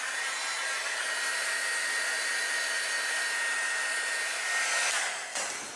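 Hair dryer blowing steadily on paper ephemera for an envelope junk journal, a loud continuous whirring hiss held for several seconds, then dipping and cutting off at the end.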